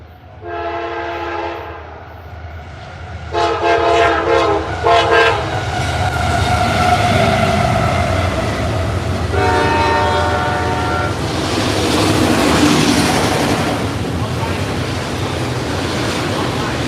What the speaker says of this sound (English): Here comes a westbound, I believe. Train time, everybody.